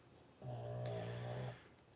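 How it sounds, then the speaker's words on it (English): A single deep, drawn-out snore lasting about a second, close and fairly loud against a quiet room, with no talk. "Okay, I don't want you snoring."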